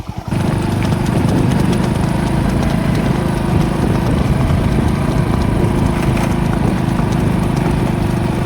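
Hooves of a Kathiawadi mare clip-clop in a steady, rapid, unbroken rhythm, loud and close, over a constant low rumbling noise.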